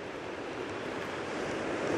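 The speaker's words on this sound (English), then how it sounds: "So I wanted to show you this little stream here. This stream is Kananaskis River" Water rushes along the Kananaskis River, a continuous broadband wash that swells slightly toward the end, with no voices.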